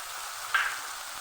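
Onion paste and ginger-garlic paste hit hot oil in a pan for a hilsa curry, giving a constant quiet hiss with a short brighter sizzle midway.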